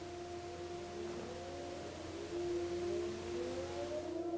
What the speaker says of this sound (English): There's the air raid sirens right now.